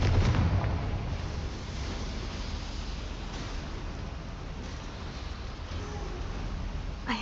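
In Hogwarts Legacy, a Confringo fire spell bursts with a loud blast at the start, then settles into a sustained fiery roar that carries on to the end.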